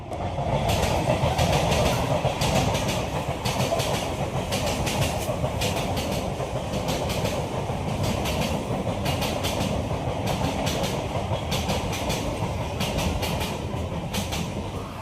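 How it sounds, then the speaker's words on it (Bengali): A train rumbles steadily past in Champahati with a continuous rhythmic clickety-clack of wheels on track, loud and close throughout. "ট্রেন যাচ্ছে"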